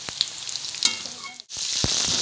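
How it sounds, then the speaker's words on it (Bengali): Potato pieces fry in hot oil for a Kolkata-style chicken biryani, a steady close sizzle with light crackles and a couple of soft utensil taps, briefly dipping before resuming. No voices. "আলুগুলো হালকা ভাজা হয়ে যাওয়ার পর আমি আলুগুলো তুলে নেব।"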